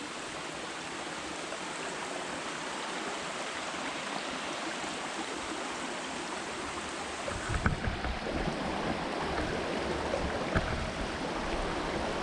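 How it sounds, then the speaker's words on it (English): A stream on the Appalachian Trail in Maryland rushes and gurgles in a steady, close wash of water that swells slightly near the end, with no talking. "we're gonna go across this water"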